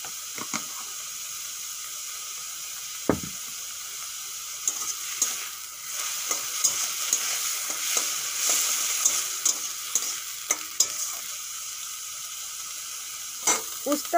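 Prawn shells and heads fry with turmeric and salt in a pan, a bright crackling sizzle punctuated by repeated sharp scrapes and clacks of a stirring utensil, close and unaccompanied by speech.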